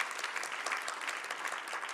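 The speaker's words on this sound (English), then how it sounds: "One more time, a round of applause for our panel today" Conference audience applause for a panel session: dense, steady clapping from many hands, fairly distant and even throughout, with no voices over it.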